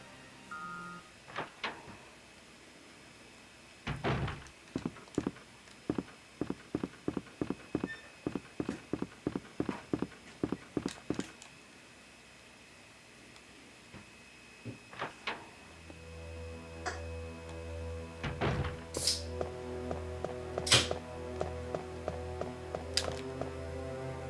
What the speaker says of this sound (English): I'm listening to the doors open and close, the footsteps